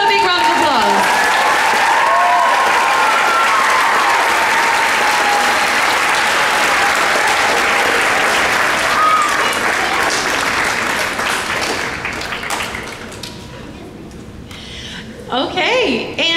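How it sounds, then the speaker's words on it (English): Loud, sustained applause from an audience at a school awards ceremony, steady clapping filling the room for many seconds before thinning out near the end, with a brief renewed burst at the close. "Give them a big round of applause."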